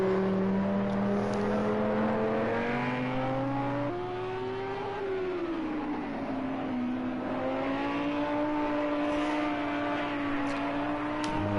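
A Lamborghini GT3 race car in a racing video game at the Algarve circuit, its engine a sustained, high-revving drone that rises and falls in pitch as it shifts and corners, with no voices.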